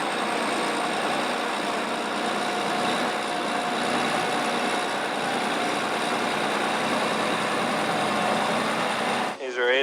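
A tractor plowing drainage tile in second gear at 1250 RPM runs with a loud, steady engine drone that holds constant throughout, with talk over it.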